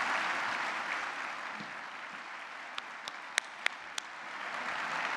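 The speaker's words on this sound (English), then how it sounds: "one more round of applause for our 20th anniversary Sunflower Ambassadors and Men's" Steady applause from an audience at a community breakfast for a men's choir and ensemble, moderately distant, with a few sharp louder claps standing out near the end.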